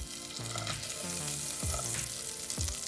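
Butter melting in a pan gives a soft, steady sizzle, close and moderately quiet, with faint low background hum and no talk.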